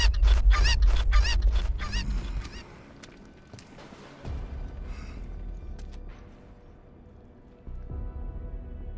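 A chicken alert from a livestream fires a quick burst of loud, honking clucks in the first couple of seconds, then gives way to quieter, fainter game background noise.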